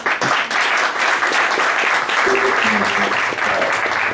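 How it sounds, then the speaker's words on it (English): A meetup audience in San Francisco applauds the VRCade team with steady, dense, loud clapping that fills the whole stretch evenly, with a few faint voices underneath. "Big round of applause for the VRCade team."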